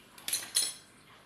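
A cutter presses into cooled chana dal halwa, making two short metallic clinks close by, with quiet pauses between and no talk.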